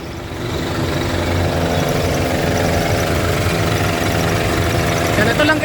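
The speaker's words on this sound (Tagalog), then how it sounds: "Mitsubishi Adventure to guys, 4D56 engine." A Mitsubishi Adventure's 4D56 diesel engine idles close by with a steady, continuous rumble and an even mechanical drone that holds throughout.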